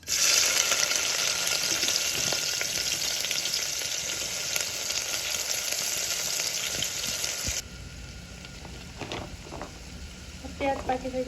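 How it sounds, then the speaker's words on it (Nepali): Onions fry loudly in hot oil inside a pressure cooker, a bright continuous sizzle with occasional stirring that drops to a quieter bubbling hiss partway through, ending with a few light clinks. "हाम्रो तेलमा प्याज भुटिसक्यो"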